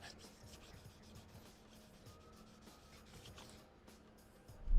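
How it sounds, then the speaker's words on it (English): A cloth rubbed against a car tire during wheel detailing, soft faint scratchy friction strokes repeating close by, with a louder rustle at the end. "let's rub this on the tire and inspect, see what we got."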